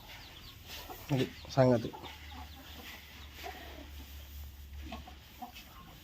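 Chickens cluck in a poultry shed bedded with rice husk, a few soft clucks and calls close by against a low steady hum, with someone speaking briefly.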